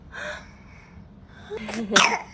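An 8-month-old baby in hospital gives a couple of sharp coughs after a brief soft vocal sound, close and fairly loud in a quiet room.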